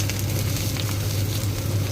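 Onion frying in hot oil with a dried red chili and a bay leaf, a steady, even sizzle with a low background hum and no talking.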